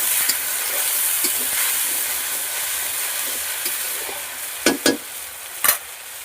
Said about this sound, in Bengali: মাছের ঝোল রান্নার জন্য বাটা মশলা, আদা, পেঁয়াজ, কাঁচা লঙ্কা, মশলাটা কষিয়ে নেব